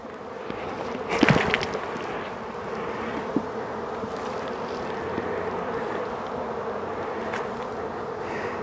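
Honeybees shaken from a frame into the top of a hive, a dense continuous buzz with a sharp burst of thumping and swarming near the start, then a steady humming drone.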